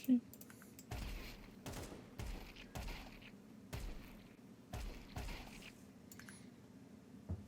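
Counter-Strike 2 gunfire fired by a triggerbot cheat: a series of about six evenly spaced, fairly faint shots, each a short sharp crack, with quiet background between them.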